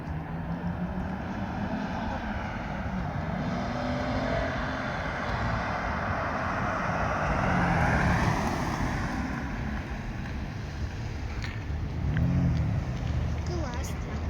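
A Ford Edge 3.5 AWD with a valved exhaust revs up and settles in a steady rumble, swelling louder around the middle and again near the end, heard up close outdoors.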